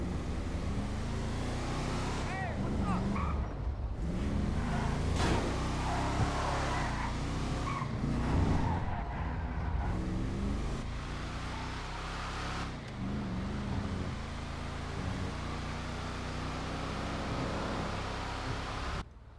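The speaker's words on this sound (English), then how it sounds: "so you can spend some time listening to this car" A car engine in GTA 5 Online roars continuously with tire noise, rising and falling as the car accelerates and corners; no one speaks.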